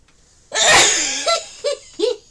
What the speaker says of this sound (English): I think I might sneeze in a second.